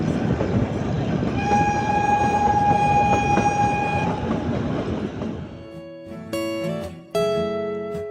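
The Kalka–Shimla toy train on its mountain railway sounds a loud, sustained horn over a dense rumble of wheels, then the noise drops to rattling, clanking carriages with a few sharp metallic squeals near the end.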